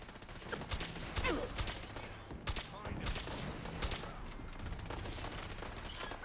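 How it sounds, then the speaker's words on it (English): Rapid laser gunfire from enemies in Fallout 4, bursts of sharp repeated shots fairly close, with a voice talking faintly underneath. "stop shooting stupid lasers at me"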